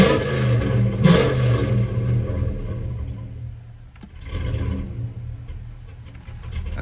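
A Chevrolet Silverado with a 6.0 engine swap idles and revs unevenly, the rumble sagging and surging as if running on bad gas, with the engine dipping midway before picking back up.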